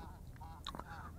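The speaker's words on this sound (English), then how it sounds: "there goes the snow geese around here." Snow geese calling while a small FPV selfie drone flies outdoors, a few faint, brief honks in quick succession over steady low background noise.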